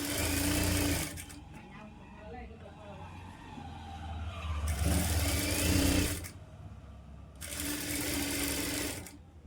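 A sewing machine stitches piping onto a blouse in bursts: a loud, close whirring run, a quieter pause, then two more runs. A voice talks softly in the gaps.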